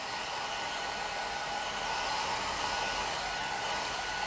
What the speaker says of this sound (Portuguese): O secador com a goma laca aberta.